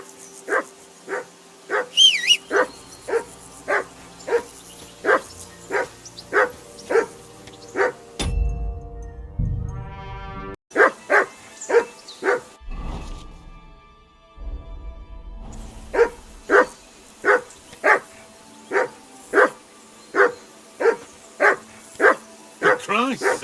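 Dog barking in Kingdom Come Deliverance II, long runs of evenly spaced sharp barks close by, broken by short gaps and a whine, with voices speaking in the pauses.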